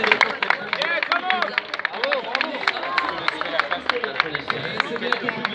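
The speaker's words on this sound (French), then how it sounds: "c'est bien que le public applaudit chaleureusement donc ce coureur Craddock" A roadside crowd claps and murmurs for Tour de France cyclist Craddock, scattered hand claps rising over a babble of voices, with a commentator speaking over it.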